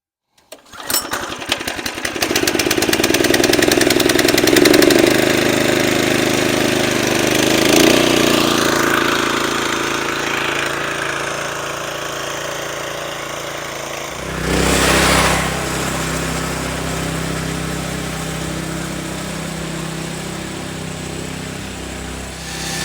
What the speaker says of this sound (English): let's go ahead and get on to the mow